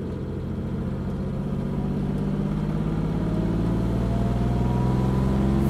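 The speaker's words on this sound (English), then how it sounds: "Feeding on that copious torque from that 6-cylinder out of the corner" A 1963 Jaguar E-Type's six-cylinder engine pulls hard out of a corner, a loud, close in-car drone that climbs steadily in pitch and volume.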